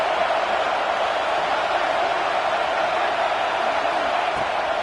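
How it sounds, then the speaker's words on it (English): Stadium crowd in a Madden American football video game, a dense, steady roar of many voices holding at an even, fairly loud level throughout with no distinct cheers or words. "This crowd ready to make its presence known."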